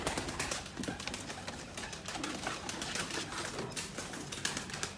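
Pure-quality pet pigeons coo from a loft, their low calls mixed with rustling, wing movement and a dense, busy background of nearby birds, steady throughout with no talking.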